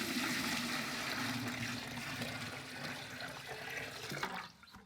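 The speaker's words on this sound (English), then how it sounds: "We just need to fill the bucket with water." Water runs steadily from a tap into a bucket being filled for a simple mousetrap, a continuous rushing splash that holds level for several seconds before cutting off.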